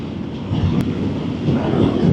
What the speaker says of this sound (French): le vent c'est vraiment fort avec la vitesse sur la route